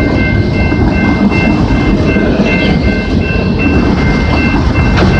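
CP 234 freight train rolling past on the Galt Subdivision at Maitland Street in London, Ontario, in December: loud, close, steady rumble with wheel clatter and faint squealing tones, no talk.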